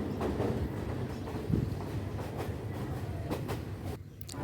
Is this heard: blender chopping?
no